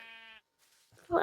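A sheep in a Minecraft-style video game gives one short, tonal bleat, followed by a gap and then a louder burst of other game noise.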